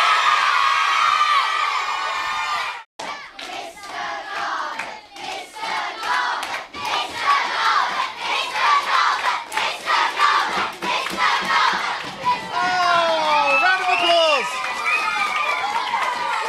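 A hall full of primary school children cheers and shouts loudly, a roaring crowd of high voices and whoops that swells and dips, with a brief hush and an adult voice speaking near the start.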